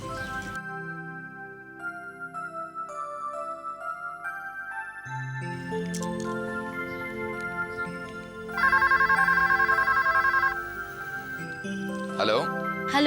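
A phone ringtone chimes repeatedly through the passage, its melodic tones growing louder midway, with voices talking over parts of it.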